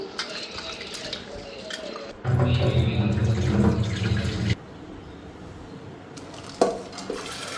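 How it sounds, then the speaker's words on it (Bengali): Matar dal lentils being washed in water in a kitchen, with a splashing, rushing middle stretch where water pours and swirls, framed by quieter clinks of a pot and some background talk. "ওইদিকে মটর ডালটা ধুয়ে নিতেছি"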